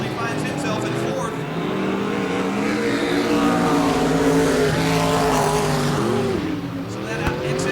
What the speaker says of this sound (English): So that excess alcohol burning off the exhaust of Steve Smotherman right behind him.